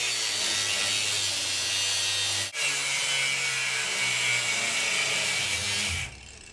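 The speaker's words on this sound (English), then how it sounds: "I'm going to use a grinder because the sawzall, I didn't have a long enough blade." An angle grinder cuts through an old drum trap pipe in a loud, continuous high-pitched grind. A sharp click breaks it briefly at about two and a half seconds, and the grinding then carries on before cutting off near the end.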